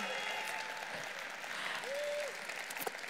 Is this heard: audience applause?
yes